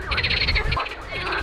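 A frog croaks repeatedly with puffed cheeks beside a riverbank on a fun day out, a steady close throaty croaking with a buzzing, pulsing texture and no talking over it.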